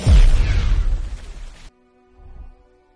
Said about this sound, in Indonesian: Mencoba mendapatkan jawaban lagi dengan memasukkan semua ramuan, namun malah membuat seluruh rumah hancur meledak